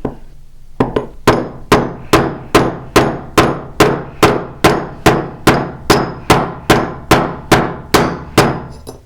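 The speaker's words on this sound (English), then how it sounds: "move the angle of my hammer to kind of push the metal in the direction I want" Steady metal hammering on a metal bangle, about twenty sharp ringing strikes at an even, brisk rhythm, close and loud with no voices.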